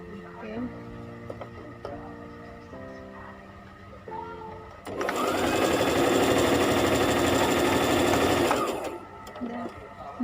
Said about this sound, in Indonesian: Jadi kita jahit seperti ini, lurus, kita jahit semua.